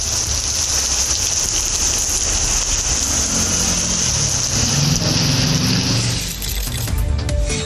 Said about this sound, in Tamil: மயிலாடுதுறை மாவட்டத்தில் இரவு 7 மணிக்கு பிறகு கனமழை கொட்டியது.